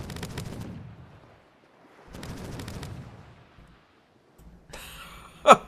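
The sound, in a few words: rapid gunfire in the video game Caribbean!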